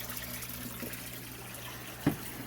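Steady low rush of water as a watering can is filled from a small fish pond outdoors, continuous and fairly faint, with one brief clunk near the end.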